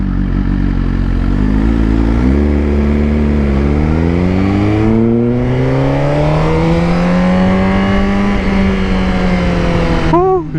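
A Suzuki Gixxer motorcycle engine revs loud and close, its pitch climbing and falling in long sweeps, with a brief drop partway through.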